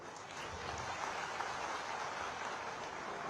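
Steady, low-level applause from an audience at the Silkyara tunnel breakthrough ceremony, a continuous even patter of many hands heard from a distance, with no voices standing out.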